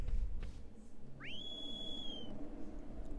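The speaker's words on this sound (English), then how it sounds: "I'm gonna have to keep whistling" A single rising whistle in the video game Shadow of the Colossus slides up and holds a steady high tone for about a second, faint over low background noise.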